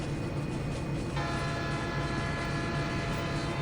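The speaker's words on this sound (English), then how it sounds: "And there's the train." A GE Evolution-series locomotive train in the Train Sim video game rumbles steadily along, with a sustained horn tone cutting in partway through over the continuous rail noise.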